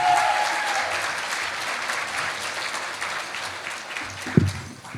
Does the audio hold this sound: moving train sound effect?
no